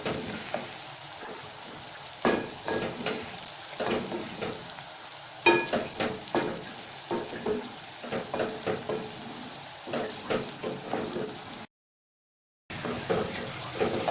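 Onions browning in a pan over medium heat, a steady close frying sizzle with scattered stirring scrapes and clatter, one brief dropout near the end.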